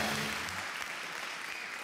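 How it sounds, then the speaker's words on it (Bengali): Studio audience applause at a comedy show, a dense wash of clapping that holds steady for about two seconds at moderate distance. "জোরে হাততালি"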